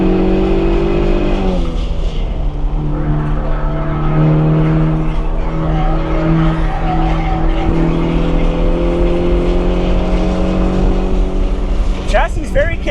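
A 2024 Ford Mustang EcoBoost is driven hard on a race track, its engine droning loud and steady throughout with rising and falling pitch, and a brief burst of higher-pitched tire or gear noise near the end while a person talks over it.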